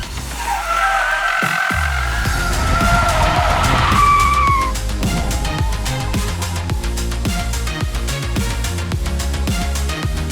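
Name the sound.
Ford EcoSport driving hard around a tight track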